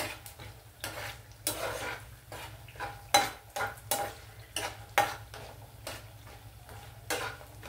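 Potato and onion pieces fry in a pan while a spoon scrapes and stirs them, giving irregular metallic clinks and scrapes over a low, steady sizzle, close and moderately quiet.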